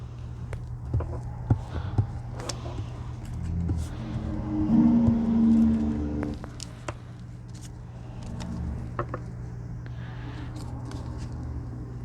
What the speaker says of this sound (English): That was a big truck going by my house, just in case you heard it and wondered what it was.